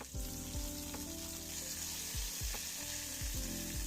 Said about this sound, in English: Just let that saute.